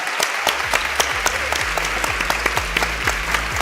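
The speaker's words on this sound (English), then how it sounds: "let's give our panelists a round of applause" Audience at an engineering panel event applauding the panelists, a steady stream of crisp individual claps at moderate volume with a low hum underneath.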